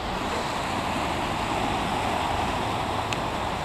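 Steady, broadband rushing of water flowing in a creek on an urban nature walk, constant and close with some wind noise mixed in and no talking.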